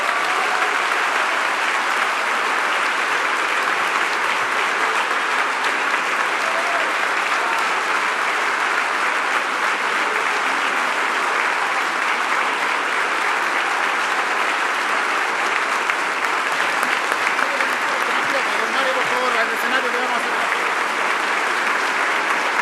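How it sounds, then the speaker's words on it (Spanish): Sustained standing ovation for the Comptroller at the ENADE 2025 business conference in Chile, a dense, steady roar of many hands clapping that holds at an even level throughout with a faint crowd murmur beneath. "Aplauso de pie para la Contralora."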